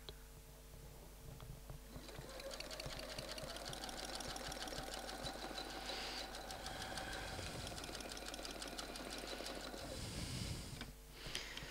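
A domestic sewing machine stitches a quilted feather pattern with a steady rapid mechanical clatter for about ten seconds, pausing briefly near the end, with no talking.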